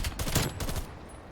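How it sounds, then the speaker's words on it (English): A nail gun fires in Call of Duty Cold War as a rapid rattling burst of several quick shots, close and fairly loud, trailing off into quieter game noise. "I've been using the nail gun more"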